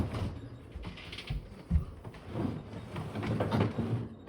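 A dishwasher slides out of its kitchen cabinet with continuous creaking, scraping and rumbling, plus irregular knocks and thumps, close and moderately loud.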